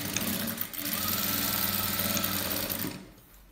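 Sewing machine stitching frock fabric in one steady, fast run of rapid mechanical needle clatter close by, stopping abruptly near the end, with no talking.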